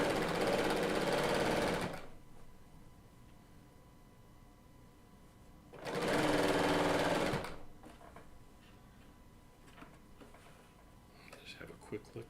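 A Bernina L890 serger runs in two loud bursts, about two seconds each, pausing between as the fabric is pivoted around a corner, then faint handling noises follow.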